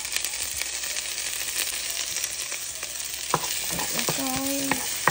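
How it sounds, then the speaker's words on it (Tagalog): Garlic and onion frying in a pan for a patola and sardine dish, a steady close sizzle with occasional stirring clinks and scrapes toward the end. "Maggisa ta og ahos."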